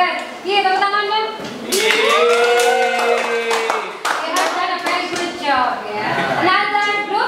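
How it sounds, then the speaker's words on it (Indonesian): A school class applauding together, steady dense clapping from many hands under overlapping children's and adults' voices that continue throughout. "tepuk tangan dong"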